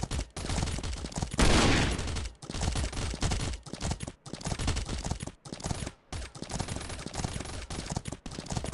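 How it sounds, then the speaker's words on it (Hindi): Rapid bursts of video game gunfire in Last Day Rules Survival crackle almost nonstop, loud and dense volleys broken by brief pauses, like automatic weapons in a firefight. "कहां से गोलियां चल रही है"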